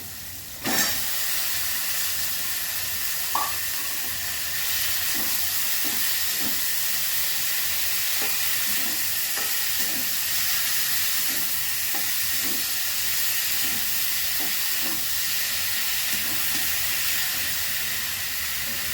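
Boiled taro stolons and green chillies fry in a pan with a constant loud hissing sizzle, while faint spoon taps and stirring clicks recur through the steady steam-like noise.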